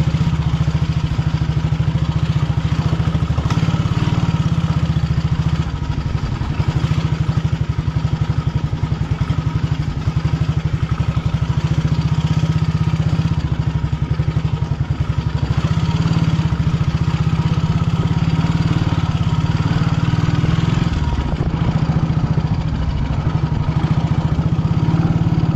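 Motorcycle engine labouring on a rough mountain road in Manang, Nepal during a riders meet, a loud continuous low drone with rattling clatter, heard up close and unbroken for the whole stretch.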